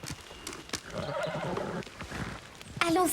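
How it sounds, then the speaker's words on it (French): Horses whinny and their hooves clip-clop in a stable setting, several sharp hoof strikes scattered through the clip and a clear neigh rising near the end. "Allons sceller nos chevaux."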